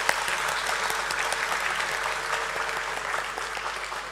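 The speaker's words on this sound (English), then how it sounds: "Let's have a thunderous round of applause for him" An audience at a corporate stock listing ceremony applauds as the company chairman takes the stage, a steady, moderately loud patter of many hands clapping continuously throughout.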